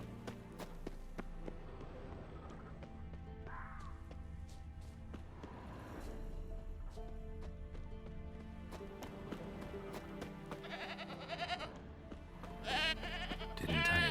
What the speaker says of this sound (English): there is the goat